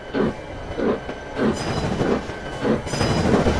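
Steam locomotive CB&Q 5632 reverses into a station after its baggage car and first coach derailed, giving a steady run of rhythmic chuffs about twice a second over a continuous mechanical rumble, with no voices.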